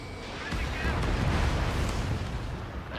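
A missile explodes in the flight combat video game Ace Combat 7, a loud, sustained rumbling blast that swells after a brief quieter lead-in and slowly fades.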